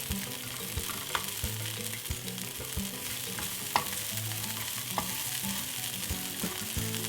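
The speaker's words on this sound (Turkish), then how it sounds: "Biberi cızır diyen yağda soteliyorum." Green peppers sauté in sizzling oil for menemen, a bright, continuous crackle close to the pan with a few clicks and scrapes from stirring, and no voices.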